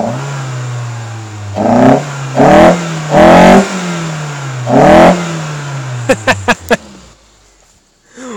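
A Toyota MR2 AW11 engine fitted with an intake idles low and is revved four times in loud, close bursts, followed by a few quick sharp blips before it drops away.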